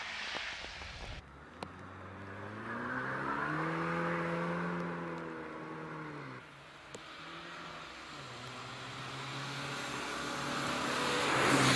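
Porsche 944 racing car on a hillclimb course driving hard through the esses, its engine note rising and falling through gear changes, passing fairly close with a loud whooshing approach and fading away.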